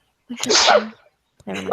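One sharp, explosive sneeze bursts out close to the microphone during a tabletop Dungeons & Dragons session, followed shortly by someone speaking.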